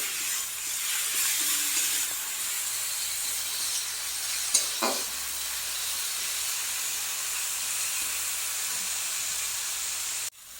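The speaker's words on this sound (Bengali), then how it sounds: "তারপরে আমি ঘষা পেঁয়াজটা দিয়ে দিলাম, দিয়ে এটাকে কষতে থাকবো।" Grated onion frying in a pan for a fish curry, giving a steady, loud, continuous sizzle and hiss with a brief stirring scrape partway through, close up and with no talking.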